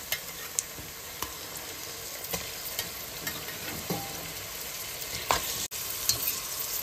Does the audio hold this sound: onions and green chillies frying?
yes